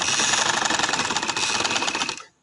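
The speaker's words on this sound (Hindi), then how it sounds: "तो ये वाली मैं इस तरह किनारे किनारे पे सिलाई लगाऊंगी" A sewing machine runs steadily, stitching golden lace along the edge of a dupatta, a dense, close mechanical whir that continues for about two seconds before stopping abruptly.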